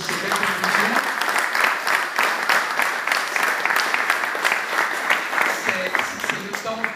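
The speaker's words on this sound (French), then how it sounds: "On peut quand même les applaudir." Audience applause at a conference, continuous rhythmic clapping from a crowd, steady and fairly loud for the whole stretch before tapering slightly near the end.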